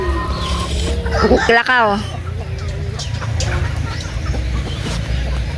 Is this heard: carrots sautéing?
no